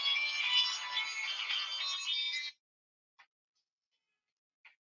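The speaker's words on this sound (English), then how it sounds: "Yes, that's my ringtone." A bright electronic ringtone plays for a couple of seconds and cuts off, followed by two faint short chirps in near silence.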